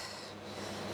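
A spatula rasps steadily across the side of a mixing bowl, scraping down spiced biscuit mixture, a soft continuous close-up rubbing sound lasting about a second.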